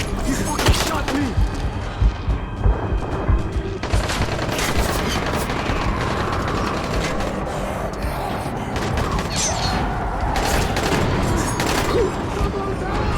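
Gunfire in the video game Dying Light: a loud, steady barrage of shots and bangs fills the whole stretch, mixed with dense combat noise.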